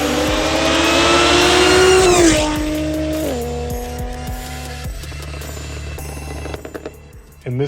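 Audi S4 wagon fitted with a custom 3-inch valved exhaust, revving hard and rising in pitch, then dropping back in stepped gear-like falls to a steady idle burble, with a few sharp blips near the end, loud and close.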